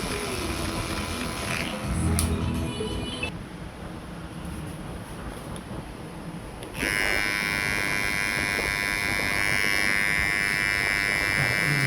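An electric beard trimmer buzzes close against the skin during a barbershop beard cut, a steady loud hum that dips in pitch and level midway as the blade presses in, then resumes strongly.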